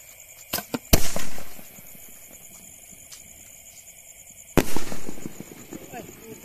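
Two sharp bangs from 3- and 4-inch bombshell fireworks, the first near one second and the second about four seconds later, each followed by crackling debris, with faint voices in the background.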